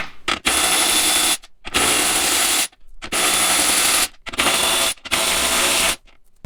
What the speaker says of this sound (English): So now we're going to use our 12mm to remove these bolts here for the side steps.